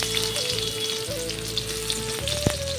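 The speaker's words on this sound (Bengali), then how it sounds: "একটু পেঁয়াজ দিয়ে দিচ্ছি।" Sliced onion hits hot oil in a wok already holding a bay leaf and whole cumin, giving a continuous close sizzle with light stirring scrapes and a faint steady hum, no voices.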